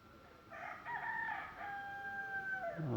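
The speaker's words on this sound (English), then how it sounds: "oh, this chicken, keep quiet, stop disturbing me" A rooster crows in one long, drawn-out cock-a-doodle-doo with several rising and falling notes, fairly loud over steady background noise, with no talk during the call.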